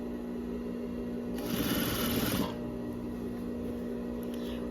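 A sewing machine stitches bias binding onto a baby jumpsuit in one short, steady burst of about a second, clear and close against a quiet room hum, with no voices.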